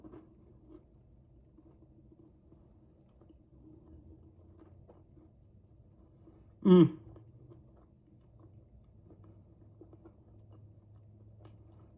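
Someone chewing a bite of dense, rich date nut bread with cream cheese, faint soft mouth sounds close by over a long quiet stretch, broken once by a brief louder burst.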